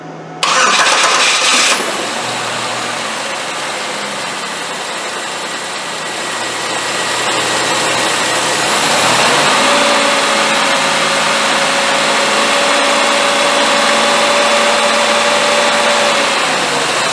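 A car engine cranks and fires right up after a fuel injector balance test, a loud brief starter whir then a steady close idle that runs on for over fifteen seconds, with no talk.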